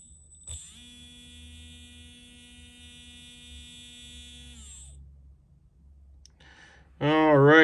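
A small electric motor on a test rig runs as a steady high-pitched whine with a sharp start, holds evenly for about four seconds, then winds down; someone talks briefly near the end.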